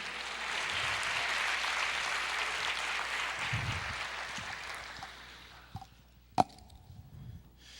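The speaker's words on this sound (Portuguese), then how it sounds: "Aplauda o Senhor." A church congregation claps during a Portuguese-language sermon. Dense, steady applause fills the hall for about five seconds, then thins out and fades, with a few scattered claps and a sharp knock near the end.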